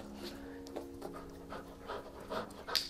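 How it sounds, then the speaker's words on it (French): An epilepsy alert dog in training sniffs a scent capsule, giving quick, close panting breaths and soft snuffles in a quiet room. "Donc là, le chien voit la capsule, sent,"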